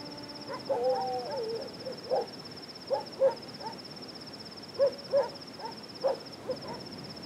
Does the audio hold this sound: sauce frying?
no